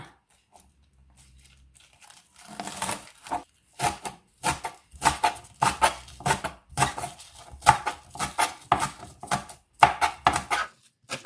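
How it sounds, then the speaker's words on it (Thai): A knife chops wild garlic leaves rapidly and steadily on a cutting board, sharp crisp cuts repeating after a quiet start. "มาเริ่มหั่นผักกระเทียมป่าเลยค่ะ"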